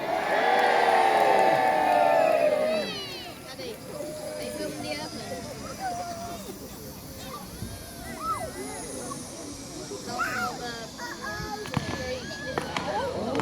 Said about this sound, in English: Let's have a cheer